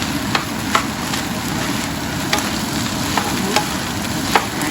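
Steady sizzling of green fried rice with Chinese sausage and spam being stir-fried in a hot pan, with periodic scraping clicks of the spatula tossing the rice, close and continuous.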